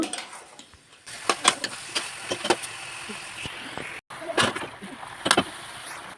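Mushrooms fry in oil as they are stirred, with a spoon scraping and clicking against the pan in irregular strokes over a low steady hiss.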